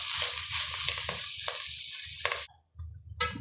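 Chicken biryani ingredients fry in a single pot with a close, crackling sizzle and a few stirring scrapes, then the hiss cuts off abruptly before a short final burst.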